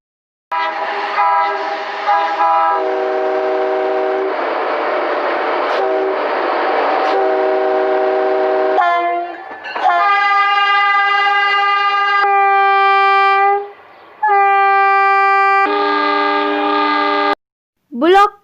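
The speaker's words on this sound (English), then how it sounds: "Metro train." Metro train horn sounding in long, loud, sustained blasts with brief gaps between them, alongside the rumble of the passing train.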